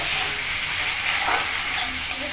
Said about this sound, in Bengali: টমেটো কুচিটা দিয়ে দিচ্ছি, একটু নেড়ে নেবো